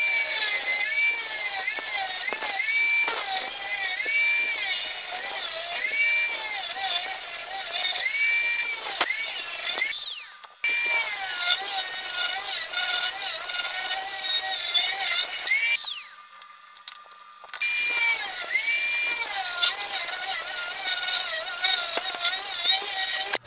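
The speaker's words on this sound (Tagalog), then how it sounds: "gumamit lang po tayo ng sander, pang cutting ito mga boss, gumamit po tayo ng cutter blade" A sander fitted with a cutter blade grinds steadily through an old steel sprocket, loud and close, with a harsh, shrill edge. Two brief pauses break the cutting before it resumes.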